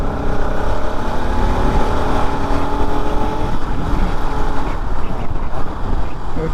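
A steady, loud engine roar and road rumble as cars race along an open road, with a BMW and a Ford Endeavour involved; the drone continues without a break.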